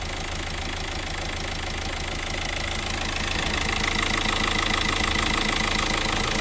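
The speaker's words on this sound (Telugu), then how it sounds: "ఇంజన్ ఆల్రెడీ స్టార్ట్ చేసి ఉందండి." A 2017 Hyundai Verna Fluidic SX with a CRDi diesel engine idles steadily up close, an even rapid diesel clatter over a low hum that grows slightly louder toward the end, with no talk.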